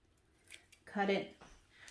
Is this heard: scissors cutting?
yes